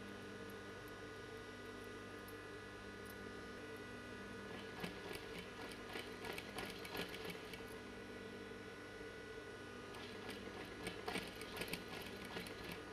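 An electric sewing machine runs steadily with a faint ticking rhythm and constant hum while stitching a V-neck blouse in a tailoring class, quiet and close with no talking.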